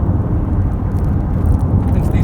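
A 2017 Honda CR-V SE Plus cruising at 100 km/h on a back road, heard from inside the cabin as a steady, dense low road-and-engine rumble with no breaks.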